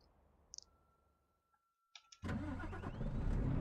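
A heavy truck engine starts up in the game Euro Truck Simulator 2, with a few dashboard clicks and a thin electronic tone first, then the engine catches abruptly and settles into a loud, steady rumbling idle.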